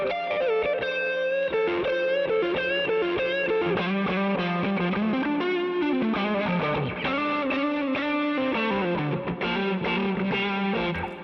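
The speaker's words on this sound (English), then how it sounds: "Next, I'm going to show you my favorite Overdrive lead tone" Electric guitar through amp-modeling software plays an overdriven lead, a melodic line with bends and sustained notes, loud and upfront, with no voices.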